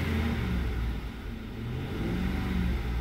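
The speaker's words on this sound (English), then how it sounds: "Let's rev it up and see how it's changing." A 2010 Ford F150 with its 5.4L engine holds a steady, loud rumbling idle that rises slightly as it is revved, with no speech over it.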